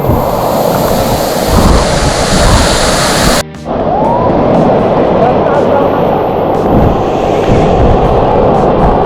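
Water pouring heavily down a rain-fed waterfall in the Konkan, a loud, continuous roaring rush close by with wind buffeting the microphone, and a person talking over it.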